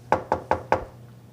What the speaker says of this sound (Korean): 한 번 더 쾅쾅쾅쾅 문을 두드렸습니다.